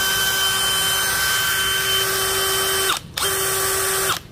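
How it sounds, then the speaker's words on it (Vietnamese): A DeWalt DCK299P2 cordless drill runs in standard drill mode with a steady high whine, stops briefly, spins up again and cuts off, close and loud, no talk. "Rồi tiếp theo là chức năng khoan bình thường, mình dùng để khoan gỗ, khoan sắt, khoan gạch men."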